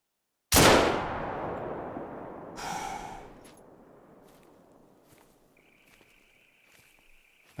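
A single rifle shot fired at an animal in The Hunter: Call of the Wild, a sharp loud crack with a long rolling echo, followed by a fainter thud and quiet ambient rustles.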